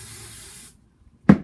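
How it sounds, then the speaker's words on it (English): A steady hiss of hairspray sprayed onto a wig for over half a second, then silence, followed by a short sharp tap or click. "So what you're going to do is you're going to spray it."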